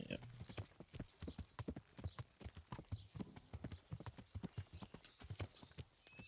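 Rapid, rhythmic hoofbeats clip-clop steadily as a horse trots along in the video game Kingdom Come: Deliverance, fairly close, with an occasional faint whinny in the background.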